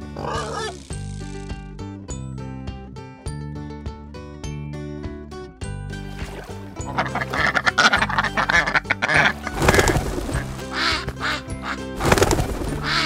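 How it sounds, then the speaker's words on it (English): Loud cartoon duck quacks repeat again and again, close up, layered over continuous background music that grows busier toward the end. "The duck is going to lay the eggs down and went back."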